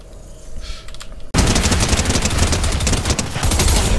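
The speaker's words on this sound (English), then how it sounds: "Oh, he's getting shot at." Sustained rapid automatic gunfire in a video game erupts suddenly after a quieter stretch, loud and dense bursts of shots continuing without a break to the end, no voices over it.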